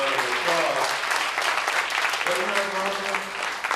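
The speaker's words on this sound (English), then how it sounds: "You should give yourselves a round of applause" A live event audience at a 1990 Rosa Parks gathering breaks into loud, sustained applause, a dense crowd clapping throughout with some voices and cheers mixed in.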